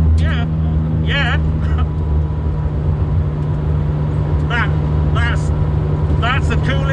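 Lancia Fulvia 1600HF Fanalone Group 4 rally car engine in Gran Turismo, a steady droning hum that runs throughout at moderate loudness, with people talking over it.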